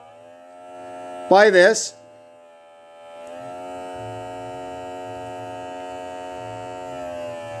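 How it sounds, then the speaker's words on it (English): The compressor of a smoke test machine, used on a 2009 Dodge Caliber's EVAP system, hums steadily and fairly loudly after a brief burst of talk, a constant electric drone with a low buzz underneath. "So that's just a compressor."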